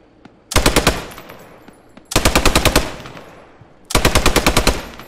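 Machine gun fire in the World War 2 shooter Post Scriptum, heard as three loud, close bursts of rapid shots, each lasting more than a second with short pauses between.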